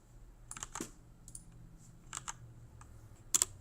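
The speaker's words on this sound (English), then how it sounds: "Gonna go ahead and type some more stuff in." Computer keyboard typing comes in irregular bursts of close, crisp key clicks separated by short pauses, with a quiet hum underneath.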